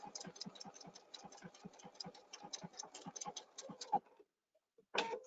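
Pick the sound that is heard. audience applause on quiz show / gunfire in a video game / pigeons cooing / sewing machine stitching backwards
sewing machine stitching backwards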